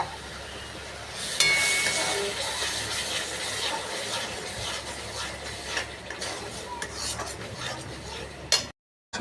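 A spiced masala of chilli, ginger and garlic paste with curd and cashew paste being stirred in a hot pan, with continuous close sizzling and frequent scraping strokes of a spatula, then a sudden stop near the end.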